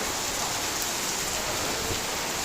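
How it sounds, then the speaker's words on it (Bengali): Heavy rain pours down in a dense, loud, unbroken hiss, steady throughout with no voices. "বৃষ্টি হচ্ছে, ভালো বৃষ্টি হচ্ছে।"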